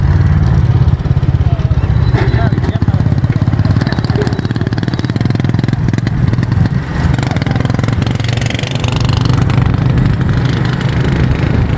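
Motorcycle rickshaw engine chugging steadily in a South Punjab village, loud and close throughout with a constant low putter, carrying a load past on the road.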